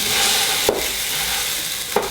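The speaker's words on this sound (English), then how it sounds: "In goes the impossible beef to the onions and garlic." Impossible beef frying in a pan with onions and garlic, a steady broadband sizzle with two brief scraping clacks as the meat is broken up, close and alone without talk.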